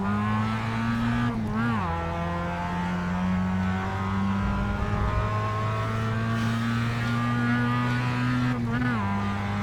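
A Mazda MX5 race car laps Silverstone, its engine droning loud and steady close by, the pitch dipping briefly on gear changes near the start and again near the end, with faint speech in the background.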